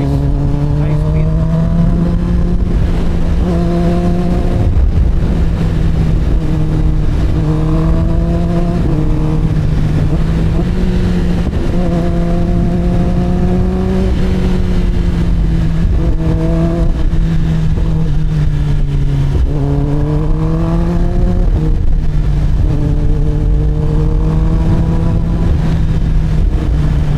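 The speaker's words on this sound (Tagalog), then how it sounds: "Kamusta ba ang Drift 2 pagdating sa wind noise, high speed?" Wind rushing past a Caberg Drift Evo II helmet at high speed, a loud, steady broadband roar with an engine drone underneath that wavers slightly in pitch throughout.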